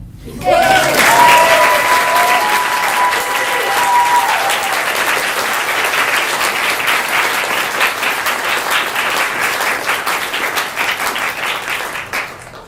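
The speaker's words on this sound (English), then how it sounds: "You can applaud." Wedding guests burst into sustained applause right after the ceremony, a dense, loud wash of clapping that holds steady for over ten seconds before tapering slightly, with a brief voice or tone under the start.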